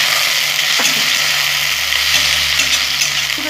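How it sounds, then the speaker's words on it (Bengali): Four or five green chillies fry in hot oil in a pan, giving a steady close sizzle with a few soft clinks of stirring. "লঙ্কা দিয়ে দিয়েছি, 4-5টা কাঁচা লঙ্কা। এখন আমি ভেজে নেবো"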